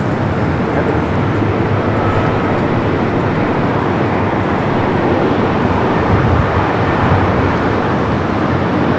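Jet airliner landing on runway 24 right at LAX, a loud continuous broadband roar of engines and rushing air holding steady for about nine seconds without pause.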